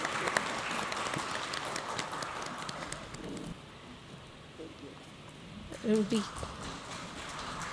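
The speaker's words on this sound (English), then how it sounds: "Let us all join in with an applause" Applause from an audience at a book discussion, dense scattered clapping that fades out, with a brief voice near the end.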